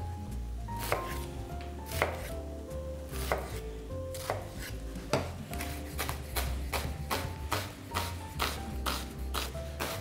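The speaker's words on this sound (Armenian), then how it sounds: "Բոլոր մթերքները կտրատելու ենք մանր։" A knife chops onion and vegetables finely on a board for an Indian-style rasam, in quick irregular bursts of sharp taps with short pauses, close and clear, with no talk.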